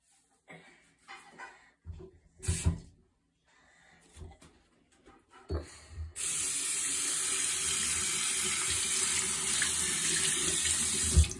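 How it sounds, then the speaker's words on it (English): Tap water pours steadily into a kitchen sink during cleaning, a loud continuous rush that starts abruptly partway through after scattered light clatter and handling sounds. "Pour the water in."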